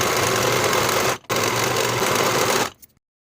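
A sewing machine runs steadily and loudly while finishing the side edges of a plaid wool jacket, with one brief pause before it resumes and then stops cleanly.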